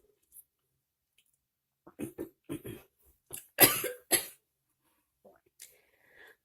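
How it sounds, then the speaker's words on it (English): A few sharp, close coughs in quick bursts, followed by a softer one and some small clicks and breaths in an otherwise quiet room. "I had to cough."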